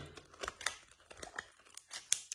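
Banknotes are pulled from a paper envelope, with several close, quiet crinkles, rustles and papery scrapes arriving in irregular bursts.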